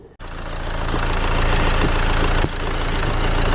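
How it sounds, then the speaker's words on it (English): A Ford Transit Custom van engine cranks and catches, then settles into a steady, loud, close idle with a slight dip partway through, no voices over it. "I'll start the engine up"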